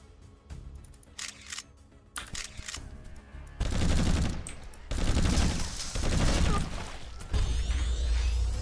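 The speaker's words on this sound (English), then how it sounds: "we're going to switch it out for the burst rifle, which actually is quoted at less DPS" Burst rifle fire in The Riftbreaker, sharp clustered volleys of rapid shots cracking out in short bursts, followed by dense sustained gunfire and mechanical clatter close up.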